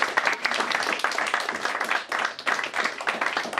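Audience applause and clapping for a saxophonist at a live music show, a loud, dense, steady burst of many hands from start to finish.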